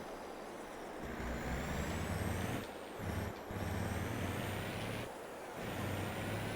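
A truck drives along in the farming video game Farming Simulator, its engine droning steadily at low pitch and swelling in loudness several times, with brief hissing breaks like air brakes and gear changes.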